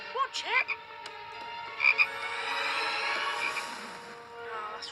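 A cartoon toad croaks in an animated short, with a few short rising croaks near the start and another pair about two seconds in, all over a steady sustained musical background.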